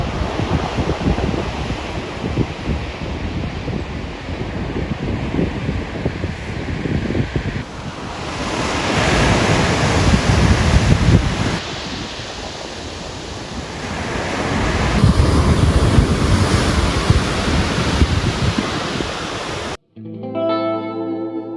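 Sea waves wash along the Lefkada island coast in a continuous surging roar, swelling and easing, heavily buffeted by wind noise on the microphone, before a brief tonal sound takes over at the very end.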